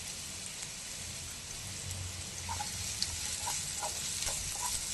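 Chopped onion and green chilli sizzling in a little oil, a soft steady crackling hiss with faint pops, close and fairly quiet, no talking.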